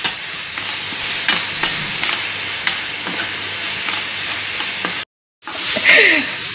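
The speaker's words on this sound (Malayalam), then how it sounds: "അതിലോട്ട് 1 teaspoon കുരുമുളക് പൊടി, 1 teaspoon കറിമസാല, കുറച്ച് മഞ്ഞൾപ്പൊടി ഇട്ടിട്ട് നല്ലോണം ഒന്ന് വഴറ്റി കൊടുക്കണം" Tomatoes with pepper powder, curry masala and turmeric are sautéed and stirred in a pan, giving a continuous close sizzle with regular scraping strokes and a brief silent break near the end.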